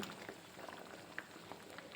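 Koorka (Chinese potato) curry with roasted ground coconut paste bubbling in a pan, a steady close simmer of soft pops and gurgles with a few sharper bursts, no voices.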